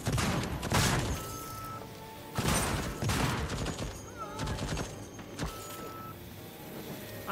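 Turret gunfire in the video game Deathloop, several heavy bursts of shots separated by short pauses, loud and close, with ringing tonal game effects between the volleys.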